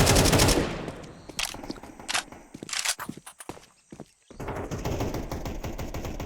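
Prefire gunshots in a round of Counter-Strike on the map Ancient, with rapid bursts of close, loud automatic fire and scattered single shots separated by brief gaps, followed by a steady background of game noise.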